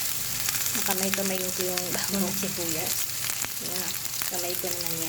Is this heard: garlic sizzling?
yes